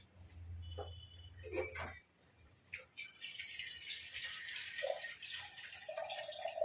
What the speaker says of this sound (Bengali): এবার একটু এতে জল দিয়ে দেবো।